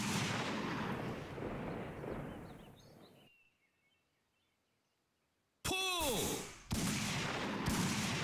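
Gunshots and shattering clays in the 3D Extra mode of the light-gun game Time Crisis II, played on a PS2 emulator: loud blasts open and close with a silent gap between them, and one sharp report comes mid-clip.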